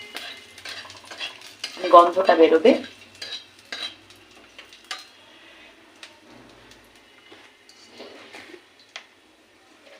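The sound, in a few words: cloves, cardamom and cinnamon frying in oil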